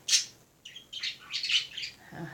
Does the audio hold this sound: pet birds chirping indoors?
yes